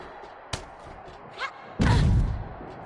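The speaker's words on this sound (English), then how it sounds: "Did you hear the thud?" A heavy, loud thud as a wrestler falls from a great height in WWE 2K23, preceded by a smaller knock and a brief squeal, with the low impact rumble tailing off.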